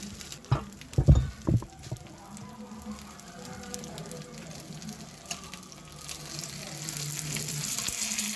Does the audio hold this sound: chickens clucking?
no